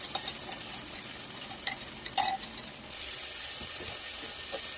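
Green chili and garlic paste frying in a pan with golden-brown onions, a soft steady sizzle with a few stirring scrapes and clinks, close by and with no talking.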